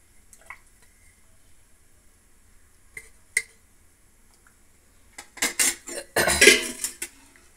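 Utensils scraping and clanking against a pot while egg biryani with six eggs is mixed, quiet taps early then a burst of louder, busy metallic stirring near the end.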